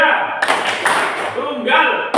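A fourth-grade classroom claps in a single-then-double pattern, giving short, sharp bursts over continuous children's and teacher's voices.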